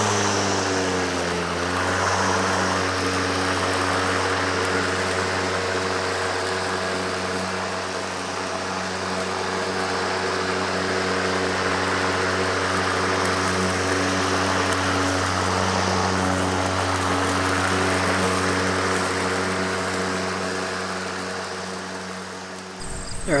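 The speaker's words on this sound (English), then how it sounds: "Can you just use a regular rotary mower that you have?" A regular rotary lawn mower runs over newly seeded grass, its engine humming loud and steady at close range throughout, with the pitch drifting slightly as it moves and no speech.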